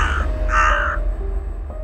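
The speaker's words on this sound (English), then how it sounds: "She looked up and saw a torrent of crows erupting from the clouds, diving on the hooded man." Crows caw loudly in a story sound effect, two harsh nearby calls in quick succession over a low background rumble.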